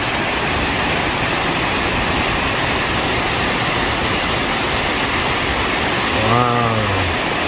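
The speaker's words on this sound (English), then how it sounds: "That is a real waterfall." Constant roaring rush of a waterfall, loud and steady throughout, with a brief voice-like tone near the end.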